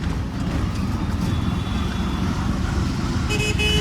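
Busy road traffic hums steadily nearby, with short car horn toots breaking through near the end.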